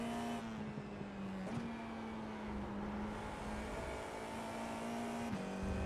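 FIA F4 race car at full throttle around Watkins Glen, a sustained engine drone with brief pitch drops at gear shifts, steady and continuous from onboard, no talk.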